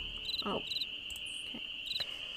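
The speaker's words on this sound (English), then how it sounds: "So we hear crickets chirping and we get glowworms." Crickets chirping in the Nancy Drew game Ghost Dogs of Moon Lake, a steady high insect trill with a few short pulsed chirps layered over it in a quiet outdoor night scene.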